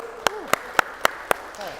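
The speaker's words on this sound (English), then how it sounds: "Give a round of applause" Clapping for a volunteer at a machine-performance workshop, heard as five sharp, evenly spaced claps in a quick steady rhythm, close and distinct.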